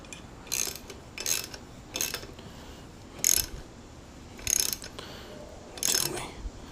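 A ratchet wrench tightening a bicycle crankset, giving six short bursts of clicking spaced roughly a second apart, moderately loud and close.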